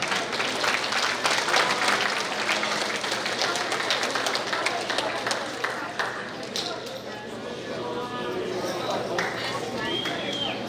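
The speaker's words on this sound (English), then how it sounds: "So we give a round of applause." Awards Day crowd at an academy applauding steadily and loudly for the program's students, a dense continuous wash of clapping with chatter and cheers mixed in throughout.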